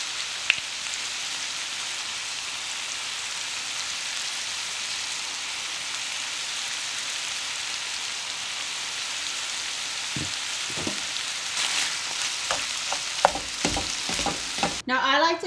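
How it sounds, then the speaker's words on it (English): Ground meat browns in a pan with a continuous, close hiss of sizzling fat, and a few scrapes and taps of stirring come toward the end. "browning my meat"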